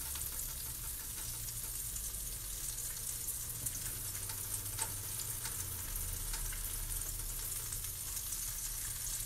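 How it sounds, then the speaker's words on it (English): Steady, crackling sizzle of food frying in a pan, continuous and fairly close, with no voices. "now I hear the sizzle"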